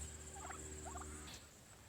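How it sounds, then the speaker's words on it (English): Two brief bursts of Royal Palm turkeys gobbling, faint and distant, over a steady low background hum. "I love these Royal Palm turkeys."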